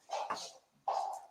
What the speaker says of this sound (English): Sorry for the noise in the background. That is my dog.